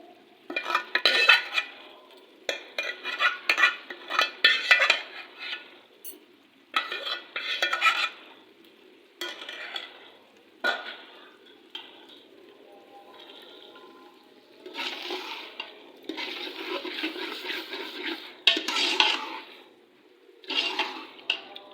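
Boiled chana dal being stirred into masala in a pot for dhaba-style dal, repeated wet scraping and sloshing strokes in bursts, close and fairly loud, with no talking.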